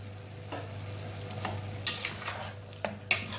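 Powdered spices being stirred into a tomato beef curry in a pan: soft scraping strokes over a low, steady sizzle, with a few sharper spoon knocks near the end, close and fairly quiet.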